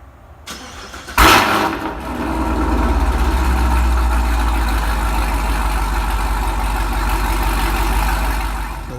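A sixth-generation Chevrolet Camaro fitted with Hoosier slicks cranks briefly, fires with a loud close roar, then settles into a deep, steady, rumbling idle.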